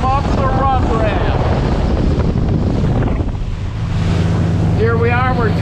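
A Reflex Reef Runner boat cruises through the current, its loud engine and hull-on-water rush steady throughout, buffeted by heavy wind noise, with brief voices breaking through near the start and end.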